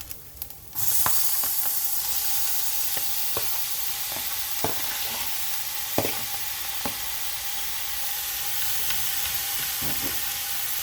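Tomatoes hitting hot oil in a pan beside small omena fish, a sudden loud sizzle that settles into a steady frying hiss with occasional stirring clicks, close up and continuous.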